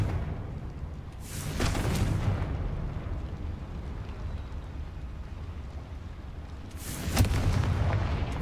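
Two heavy booming blasts from the Confringo fire spell in the Hogwarts Legacy video game, each a broad roaring burst several seconds apart over a constant dense rumble of game sound.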